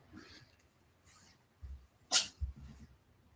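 A single sharp sneeze rings out near the mic amid quiet breathing and rustling, followed by a soft thump.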